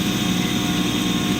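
Kubota compact tractor running a snow blower while scraping a frozen pond rink: a steady, loud, close engine drone with a constant whirring blower whine, unbroken and alone.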